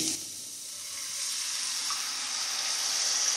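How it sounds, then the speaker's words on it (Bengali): Milk being poured into a hot pan for bottle gourd payesh, a continuous bubbling hiss that swells gradually, close with no talk. "এবার আমি অন্য একটা পাত্রে 1 লিটার দুধ নিয়ে বেশ খানিকক্ষণ ফুটিয়ে, কিছুটা দুধ শুকিয়ে গেছে এমতো অবস্থায় খানিকটা দুধ দিয়ে দিচ্ছি"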